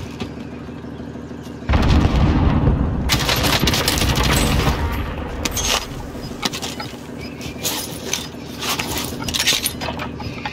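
A grenade blast in Call of Duty Warzone gameplay, a sudden loud boom followed by sustained rattling gunfire and scattered shots that continue up close.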